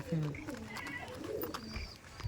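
Pigeons at a loft give soft, low coos at close range beneath light background noise, with a brief voice nearby.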